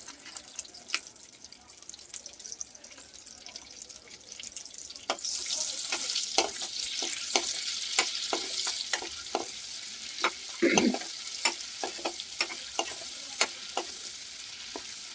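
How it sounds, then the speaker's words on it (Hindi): Oil and butter heat in a kadhai, starting as a quiet hiss that swells into a steady bright sizzle, punctuated by regular sharp taps and scrapes of a spoon stirring against the metal. "आप देख सकते हैं हम कढ़ाई में थोड़ा तेल ले लिए हैं। इसमें थोड़ा तेल, थोड़ा हम बटर डालेंगे"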